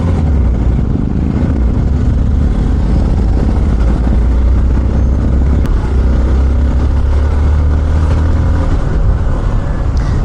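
A Hero Xpulse 200 4V motorcycle is ridden on an open road. A loud, continuous engine drone mixes with wind and road rumble from close up, holding steady the whole time.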